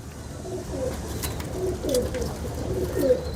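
Teddy pigeons coo softly with repeated low, throaty calls, several in a row at an unhurried rhythm, over faint background noise.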